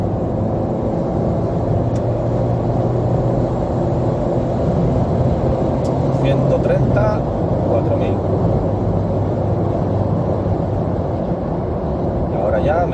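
A Dacia Sandero Easy R accelerates in second gear, its engine drone loud and steady throughout, with road and wind rumble blended in from inside the car.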